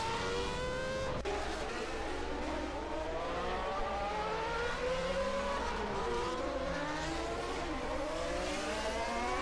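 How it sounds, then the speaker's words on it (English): A 1991 Formula 1 race car screams through a downshift into a turn at the Japanese Grand Prix at Suzuka. Its engine pitch drops sharply, then climbs and wavers again, loud and continuous throughout. "now downshifting to second for this next turn"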